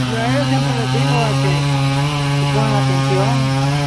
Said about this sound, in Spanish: aquí no me va a dejar hablar la motosierra